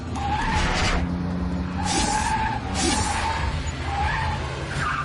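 A car pulls away with repeated tire screeches and skidding bursts over a loud, steady engine roar, close and continuous.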